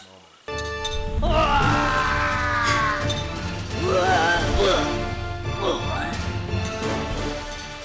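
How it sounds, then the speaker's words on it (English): Loud animated scream from an old homemade animation, a drawn-out wailing voice rising and falling over several seconds with crashing noise beneath it. "I scream a lot in these earlier animations."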